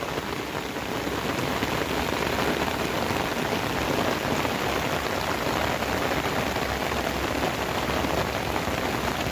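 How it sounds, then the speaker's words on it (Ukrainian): Heavy rain falls on a village, a thick, unbroken roar of drops on surfaces, loud, close and constant from start to finish. "бо дощ більшає, більшає"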